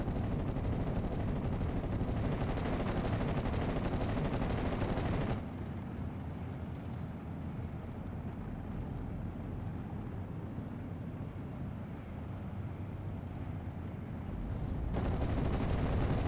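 Strafing gunfire from an Me-109 fighter diving on ground targets in a World War II video game, a dense roar of loud sustained firing at the start and end with a quieter rumbling stretch between.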